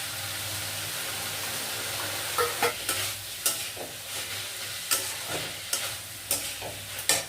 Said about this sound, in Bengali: আদা রসুনের কাঁচা গন্ধটা যাচ্ছে, ততক্ষণ আমি নাড়িয়ে যাব।